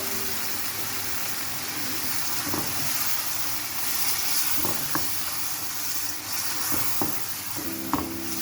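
A paste of yogurt, green chillies and tomato is stirred into sizzling chicken pulao in a pot, producing a steady close frying hiss with a low background hum and occasional spoon knocks against the pan.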